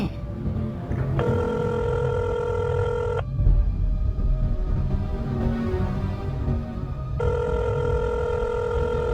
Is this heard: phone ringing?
yes